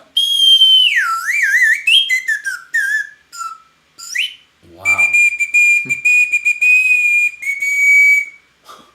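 A slide whistle played loud and close, with swooping glides up and down and wobbling pitch, then longer held tones, with a brief spoken exclamation in the middle.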